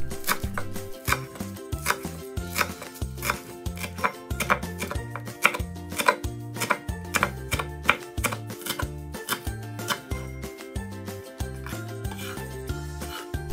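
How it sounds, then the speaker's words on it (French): A knife finely mincing washed Asian chives on a board, steady rhythmic chops at a quick even pace, close and crisp throughout with no talking. "Puis, on va ciseler le tout."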